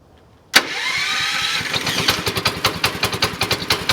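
An old Chrysler 7 horsepower outboard motor with electronic ignition fires up on its electric start after a brief quiet moment, then settles into a loud, close, rhythmic chugging idle.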